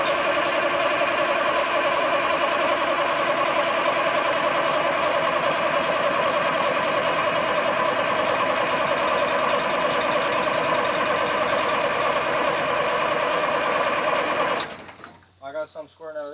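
A 1973 Mack R700 V8 truck engine long out of use cranks on the starter in a steady, unbroken churning drone for about fifteen seconds, then stops as people start talking.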